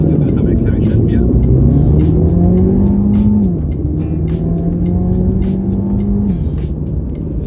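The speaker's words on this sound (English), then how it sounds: "this car accelerates like crazy." MINI JCW GP accelerating hard, its engine note climbing steadily through two long pulls with a brief dip at a gear change, loud and close from inside the car, with a voice talking over it.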